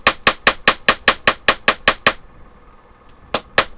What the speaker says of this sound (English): really hammer it